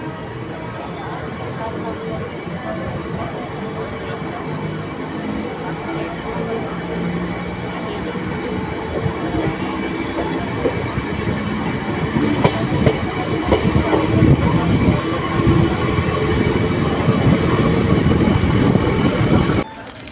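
A passenger train rolls on with a steady rumble and rhythmic clickety-clack of wheels, growing louder toward the end as it enters Howrah station, with voices faintly beneath.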